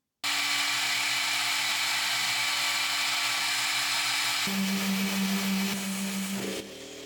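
A DMC2 Mini CNC machine cutting mounting features into stock, a steady high whine of the spindle and cutter that shifts to a lower tone partway through, then drops off near the end, loud and continuous.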